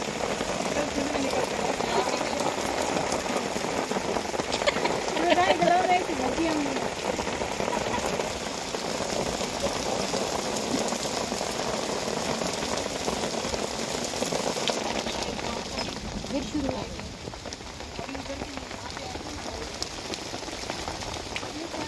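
Heavy rain pouring down in a village, a dense steady hiss of drops drumming on surfaces throughout, easing slightly toward the end, with no talk over it.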